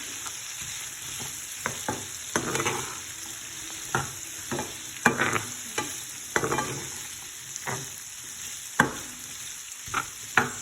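Chickpeas with green chilies frying in a pan, a steady soft sizzle broken by scattered clinks and scrapes of stirring, close and moderately loud, with no talking.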